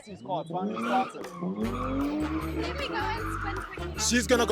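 A car skids and spins at a car show with squealing tires and a revving engine, voices talking and shouting over the noise throughout.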